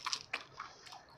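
Close, crisp crunching bites into fried chicken, a few sharp crackles spaced across a second, with soft chewing between them and no talking.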